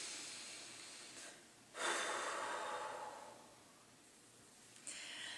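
A single deep breath drawn in and slowly let out, quiet and close, alone with no talk, during a calm self-acceptance exercise.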